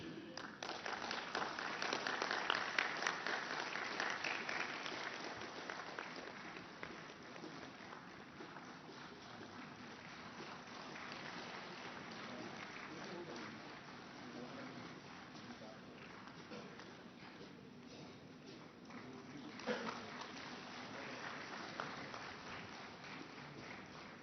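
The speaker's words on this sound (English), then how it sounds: "Let us applaud the occasion." An audience at a public programme with the President of India applauds steadily, a dense, distant wash of clapping that swells early and then holds at an even level for a long stretch.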